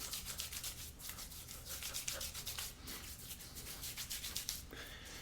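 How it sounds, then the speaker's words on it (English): Fingertips work a pre-shave product into a beard, giving a close, steady rubbing and bristly scratching that pulses with each stroke, with no talking. "Massage this directly into your beard."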